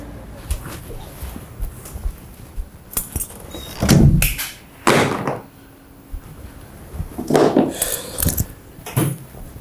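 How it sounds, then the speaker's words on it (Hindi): An apartment door swings open with a drawn-out creak and a couple of heavy wooden knocks, set among scattered handling noises and quiet background sounds. "ये दरवाज़ा किसी हॉरर मूवी से उधार लिया है?"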